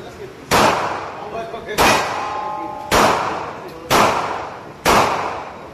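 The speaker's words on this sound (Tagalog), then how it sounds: "let's try again the Black 47. Tignan natin kung okay naman siya. Test natin. Firing. Firing." Five loud, sharp gunshots from a Black 47 firearm at a shooting range, spaced about a second apart, each with a ringing metallic tail; no clear speech over the shots.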